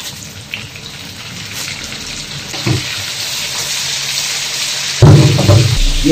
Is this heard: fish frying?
yes